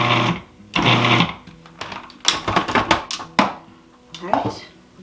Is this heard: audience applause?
no